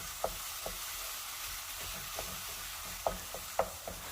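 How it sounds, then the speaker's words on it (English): Lean ground beef fries in a pan with a steady soft sizzle, broken by irregular scraping clicks of a utensil stirring and breaking up the meat. "Now I'm going to add my pound of lean ground beef, and it's going to go right into the pan."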